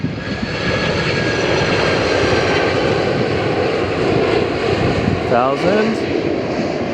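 A jet airliner at Lihue airport in Hawaii roars loudly and steadily throughout, a broad continuous engine rush with shifting thrust, while people talk over it close by.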